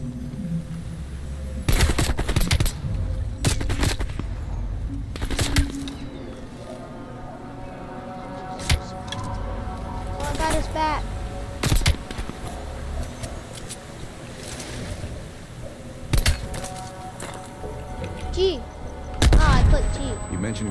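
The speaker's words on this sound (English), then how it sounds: "you followed the road right toward the sound of gunfire" Gunfire in the Call of Duty Black Ops video game, with sharp bursts of machine-gun and rifle shots scattered throughout over a low rumbling background, loud and close, some volleys rapid and sustained.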